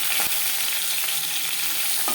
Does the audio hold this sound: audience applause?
no